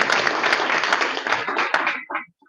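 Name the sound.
audience applause for the sheriff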